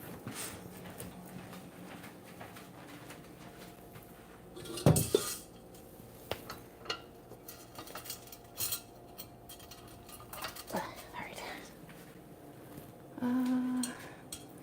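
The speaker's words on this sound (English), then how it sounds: "Okay, let me grab a saucepan." Pots and pans clatter in a home kitchen as a saucepan is pulled from the stack while baking a butterscotch-cinnamon pie: one sharp metallic crash, then scattered lighter clinks and knocks close by, with no talking.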